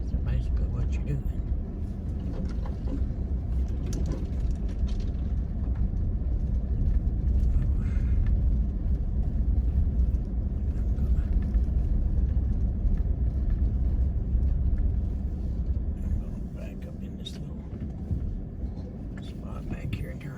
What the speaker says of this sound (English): Switch that into auto 4-wheel drive so it quit spinning on me